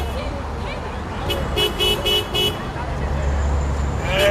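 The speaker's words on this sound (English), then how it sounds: "I'll honk at them." Car horn honking at a street protest in Seattle, several short toots in a quick rhythm over steady crowd and traffic noise, with voices talking throughout.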